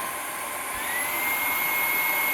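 Stick vacuum cleaner running in turbo mode, a loud steady motor whir with a high whine that rises slightly in pitch partway through, close up and with no talk.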